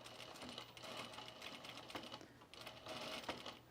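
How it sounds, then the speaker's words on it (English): A sewing machine stitches along a small shirt collar facing, running in a steady, busy mechanical whir with brief pauses and restarts, close and fairly loud throughout. "let's just sew this on"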